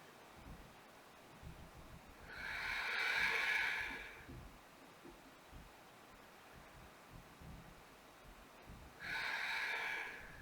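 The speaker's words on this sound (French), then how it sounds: "Et on respire. 2 profondes respirations ici." Two slow, deep breaths during a yoga stretch, each a soft airy exhale a couple of seconds long, separated by quiet room hiss, close and faint.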